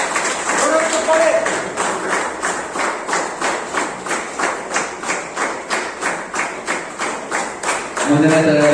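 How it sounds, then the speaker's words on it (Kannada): An audience claps in steady unison at an award ceremony honouring trainees, with loud, even beats roughly three per second for several seconds; a voice speaks briefly before and after. "ಜೋರಾದ ಚಪ್ಪಾಳೆ"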